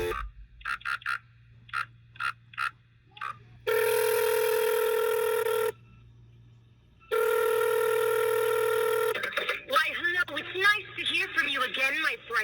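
A recorded phone call plays: several short tone-dial beeps, then two long electronic ring tones separated by a gap, followed by a warbling, distorted sound as the line connects.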